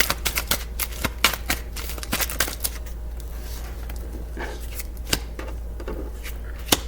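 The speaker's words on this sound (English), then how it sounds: "Let me just put the cards down." Playing cards being handled and set down on a table, a close run of quick soft flicks and taps, busier at first and then more scattered, with no voices.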